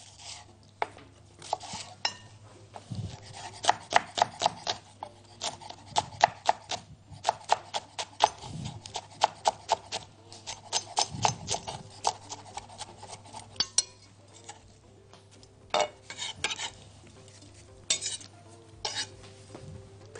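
Bell peppers in yellow, red and green are chopped into cubes on a board. Brisk knife strikes come in uneven bursts over a low steady hum, crisp and close, with no voices.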